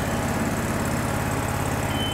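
A self-propelled tracked robot car loading tow crawls across a shop floor under its own power, giving off a steady mechanical drone with a low motor hum and faint high whine, loud and unbroken, with no talking.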